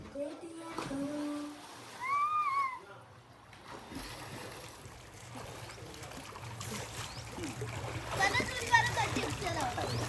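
People jump into water at a farmhouse. Children chatter and call out before a splash lands, followed by more watery splashing under lively voices.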